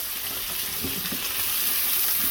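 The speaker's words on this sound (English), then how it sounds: "So got our onions there. I'm just going to sweat these down." Onions sweating down in a pan with oil and juices from cooked sausages, a steady close sizzle and crackle throughout, with a faint stir partway.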